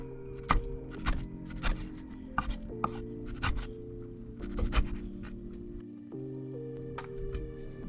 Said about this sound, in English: Cut it into about 3 cm lengths